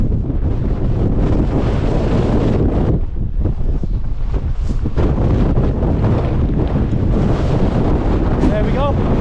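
Gale-force wind on the summit of Cold Pike in the Lake District roars and buffets the microphone in a loud, continuous rumble, with a brief lull partway through and a voice shouting faintly at one point.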